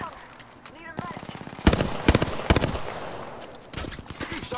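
Apex Legends gunfire: rapid automatic bursts and heavy single shots crack loudly in clusters, mixed with in-game voice callouts and talk.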